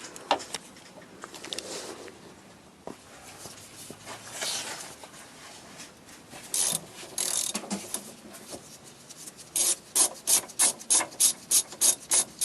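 A hand ratchet loosening bolts on the steering rack of a Lexus SC300 during a rack bushing install, with intermittent rubbing and clicking that builds into a rapid, steady run of close ratchet clicks.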